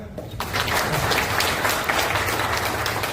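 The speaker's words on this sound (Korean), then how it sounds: "박수 한번 칠까요?" An audience claps at a youth literature awards ceremony in a police station auditorium in Yangcheon, Seoul, with sustained, dense applause rising sharply and staying loud to the end.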